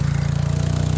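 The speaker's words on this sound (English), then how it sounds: "four-wheeler is struggling" A four-wheeler engine labors under load while pulling a cultipacker, a loud, close, rapid throbbing pulse with a heavy low rumble over one second.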